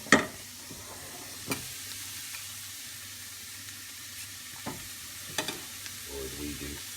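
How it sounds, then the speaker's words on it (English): White sauce for croquettes stirred in a hot pan, a faint sizzle under occasional sharp clinks and scrapes of the utensil against the pan, with a low hum throughout. "back on the heat with the sauce, and you're basically adding a ladle full at a time, and starting to mix that in."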